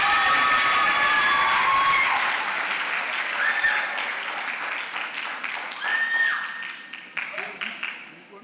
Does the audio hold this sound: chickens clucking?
no